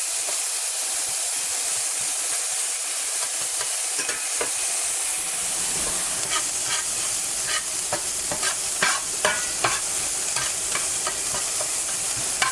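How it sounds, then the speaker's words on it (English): Onions sautéing in a hot pan give a steady close sizzle, with scattered crackles and stirring scrapes growing busier toward the end; no one speaks. "we're going to throw our onions in here and get those all sauteed up"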